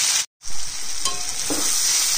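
Chopped onion, capsicum and tomato fry gently in a pan, a steady close sizzle with a short break near the start and a few scraping stirs along the way.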